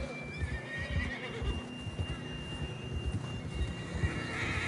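Horse whinnies and hoof clip-clop in a Western video game, set over a steady bed of ambient noise, with the hooves thudding rhythmically up close throughout.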